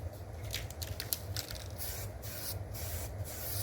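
Spray paint hisses onto a Kawasaki Vulcan motorcycle fuel tank in short, close, airy bursts with brief gaps between passes, soft and without talk.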